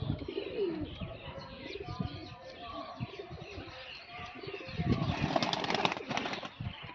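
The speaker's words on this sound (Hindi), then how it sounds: "तो ये कबूतरी है" A female pigeon coos on a farm loft in soft, repeated throaty murmurs, with busy rustling and possible wing flutters mixed in and a brief louder burst near the end.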